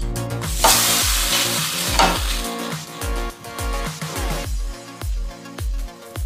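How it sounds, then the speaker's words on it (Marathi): A sabudana thalipith is laid onto a ghee-coated griddle and turned with a metal spatula. Sharp repeated scraping and tapping clicks sound over a bright, steady sizzle, with no voices. "आता आपण थालीपीठ तव्यावर टाकूया।"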